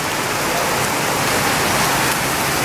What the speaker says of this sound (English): Quite a bit of rain going on.